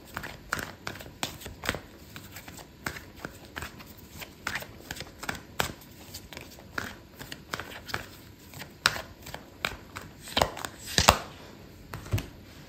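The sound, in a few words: handling and pulling tarot cards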